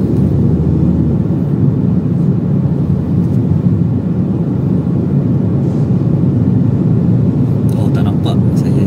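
Proton Saga 1.5 automatic car driving and accelerating in gear, a steady loud engine and road rumble filling the whole stretch from inside the cabin, with a few faint clicks near the end.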